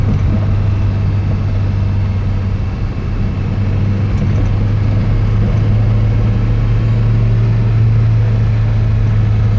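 A 1967 Alfa Romeo Giulia Super's engine drones steadily in third gear at around 3,000 revs on country roads, loud and continuous with a constant low hum and no talk.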